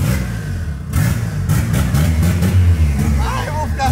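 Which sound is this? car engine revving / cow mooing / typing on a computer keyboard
car engine revving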